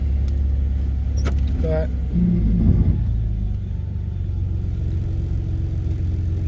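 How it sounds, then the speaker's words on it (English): A 2006 Ford Mustang with a 4.0 V6 idles with a steady, slightly buzzy low rumble, close by, while a few spoken words and some brief clinking sounds occur near the start. "As you can hear, it's a V6, so it's a little buzzy, but not terrible."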